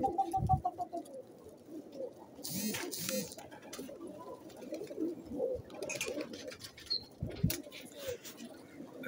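Pigeons on a pigeon farm in Multan coo and shuffle close by, with low throaty calls, soft fluttering and scattered pattering. A few brief higher sounds cut through the quiet, moderately faint background.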